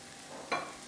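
Cabbage being stirred for borscht in a large pot that is starting to boil, giving a single short scraping, sizzling burst midway against a steady low background hiss.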